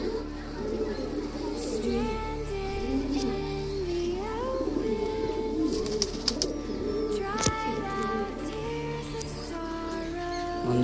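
Madras pigeons cooing in a loft, repeated soft throaty coos layered over one another with faint background chatter and occasional clicks.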